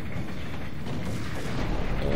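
A dense, rumbling explosion in Max Payne roars continuously, loud and close, with no voices over it.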